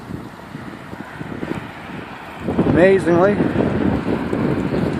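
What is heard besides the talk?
cold wind blowing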